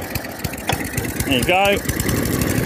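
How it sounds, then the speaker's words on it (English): An Atco Balmoral cylinder mower with a freshly cleaned carburetor pull-starts at once and settles into a steady idle, loud and close, while someone talks over it. "now the machine, once the carburetor has been cleaned, now starts up pretty much first pull"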